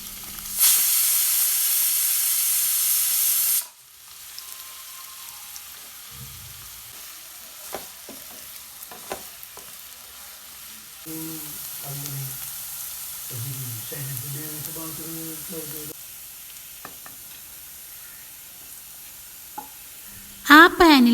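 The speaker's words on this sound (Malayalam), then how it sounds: "അതേ പാനിൽ തന്നെ കുറച്ച് സവാള ഫ്രൈ ചെയ്ത് എടുത്ത് മാറ്റി വയ്ക്കാം." Onions fry in the same pan used for a homemade beef fry. A loud, steady sizzle runs for about three seconds, then drops to quieter pan and stirring noises with a few tonal, voice-like sounds.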